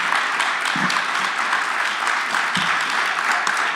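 A forum audience applauds city ward candidate Joe Dunne, a loud, continuous wash of many hands clapping close by throughout, with no voices over it.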